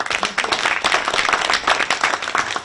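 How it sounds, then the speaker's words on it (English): A conference audience gives a speaker warm applause, dense close clapping from many hands at a lively, even level throughout the short burst. "Please give a warm applause to Mr. Leif Edvinsson."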